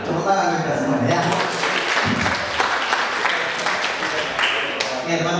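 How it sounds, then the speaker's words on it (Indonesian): An audience breaks into sustained, dense applause at an indoor talk on work and success tips, clapping steadily throughout while a voice speaks over it. "tepuk tangan kita semuanya ya"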